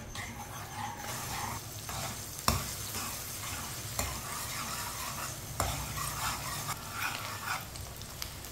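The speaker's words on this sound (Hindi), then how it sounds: "एक बारीक कटा हुआ प्याज, प्याज को हल्का सा ब्राउन कर लेंगे।" Finely chopped onion fries in oil in a pan and is stirred, a soft continuous sizzle broken by several sharp spoon knocks and scrapes against the pan.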